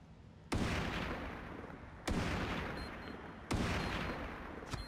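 An unsilenced amphibian sniper rifle fires in the mobile game Sniper 3D Assassin: three loud, sharp booming shots spaced about one and a half seconds apart, each trailing off in a long echoing decay.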